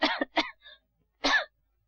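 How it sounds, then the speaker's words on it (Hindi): A woman coughs in a short burst of three harsh coughs, then a pause and one more cough, close and clear with no talk over it. "ये खांस क्यों रही हो?"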